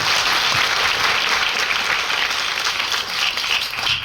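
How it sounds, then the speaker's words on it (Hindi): The audience at a Smart Value direct-selling training seminar breaks into loud, dense applause that holds steady throughout and tapers slightly at the end. "तालियां होना चाहिए स्मार्ट वैल्यू पे"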